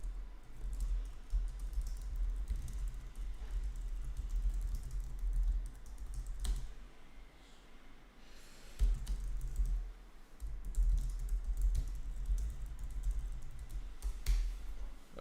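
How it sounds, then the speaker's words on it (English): Someone types on a computer keyboard with a quiet, steady patter of key clicks that runs on through most of the stretch, pausing briefly once, over a low background hum. "I can type them in the chat right now."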